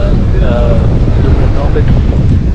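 Strong wind on a hill road to Marayoor near Munnar buffets the microphone in a loud, continuous roaring rumble.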